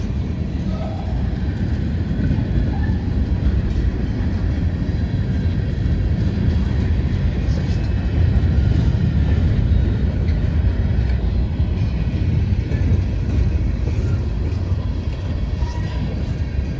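A heavy CSX freight train climbing the Saugatuck Hill grade rumbles past nearby, a steady loud low roar with rattling and clanking that holds for the whole stretch without letup.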